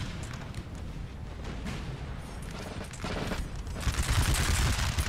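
Massed musket volleys crackle in a Napoleon Total War battle, a dense rolling fusillade between French and English lines that builds louder toward the end, with no talking over it.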